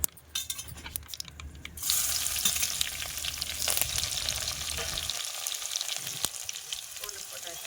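Garlic, half crushed and half left whole, hits hot oil in a pan for a fish curry and erupts into a loud, close, crackling sizzle that continues steadily after a quieter start.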